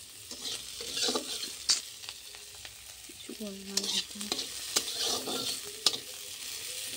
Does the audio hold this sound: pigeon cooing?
no